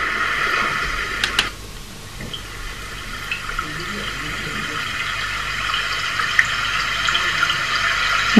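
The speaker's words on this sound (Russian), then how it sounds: "Вот такой прибой с водичкой." Steady rushing water noise like breaking surf, played continuously at fairly high volume with faint hiss and occasional small clicks.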